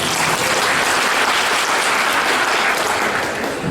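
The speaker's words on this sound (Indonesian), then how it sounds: "Tepuk tangan untuk saya." Loud, dense applause fills a business training event hall, a continuous roar of many clapping hands from start to finish that eases only slightly at the close.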